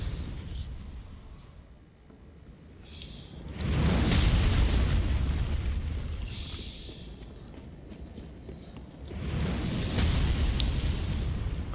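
Two big explosions roar up in Dark Souls III, each a deep, loud surging boom that swells and lingers several seconds, separated by quieter rumbling and small pops.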